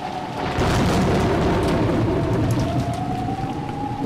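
Steady heavy rain with low rumbling thunder from the Umineko visual novel, a dense continuous downpour under a rolling boom, with no voices.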